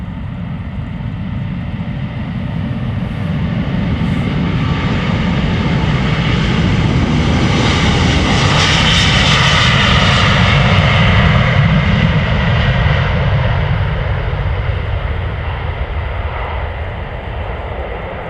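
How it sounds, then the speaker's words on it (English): A Delta Air Lines Airbus A330neo departs Amsterdam Schiphol with a loud, close engine roar that swells to a peak midway and then slowly fades as it climbs away. "This is Delta Airlines flight 143 going to Seattle, Washington. A330neo."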